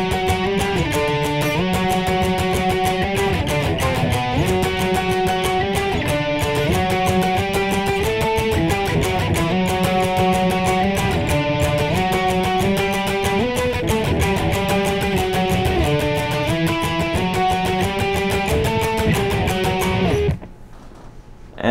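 Electric guitar playing a repeating octave line from a song, a steady rhythmic figure of plucked notes with ringing harmonics, sustained loud and alone for about twenty seconds before stopping.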